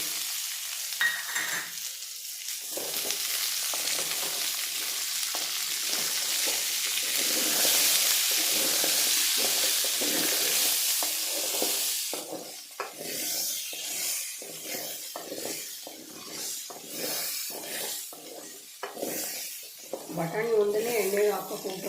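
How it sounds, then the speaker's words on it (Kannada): Green peas frying in a pan for potato-pea chops, a continuous sizzling hiss that later thins into scattered spatula stirs while a person talks over it. "ಬಟಾಣಿನೂ ಸ್ವಲ್ಪ ಹಸಿ ವಾಸನೆ ಹೋಗೋ ತನಕ ಫ್ರೈ ಮಾಡ್ಕೊತೀನಿ"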